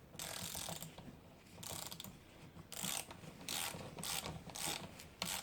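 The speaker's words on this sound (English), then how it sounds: "That's when you get the extra long snap-on ratchet." An extra long Snap-On ratchet is worked on a manual transaxle during strip-down. Close, repeated bursts of clicking ratchet and rattling metal come with short pauses between strokes.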